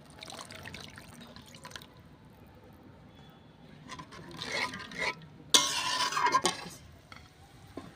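Milk and a little water poured into a cooking pot while making prawn pulao, a quiet start giving way to two splashy, hissing pours, the second louder and longer, with faint clinks of utensils.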